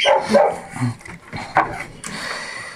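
A dog barking a few times close by, short yelping barks over a noisy background.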